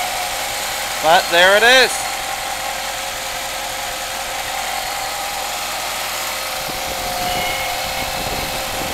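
A 1989 Chrysler Daytona idles after a cold start, low on fuel, giving a steady, even engine drone throughout, with someone speaking briefly over it near the start.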